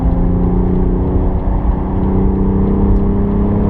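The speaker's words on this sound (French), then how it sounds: "Et là, tu pourras accélérer à fond." A car on the Nürburgring Nordschleife accelerates hard at full throttle, giving a loud, steady engine drone and whir that holds close and continuous, with no voices over it.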